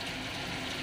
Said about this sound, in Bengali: এখানে একটু মশলা ধোয়ার জল দিলাম